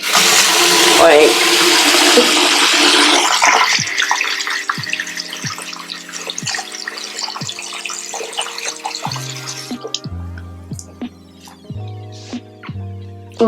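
Running tap water splashes over a skin care tool being rinsed in a sink, a loud steady gush for several seconds that then thins into drips and clinks as the water slows.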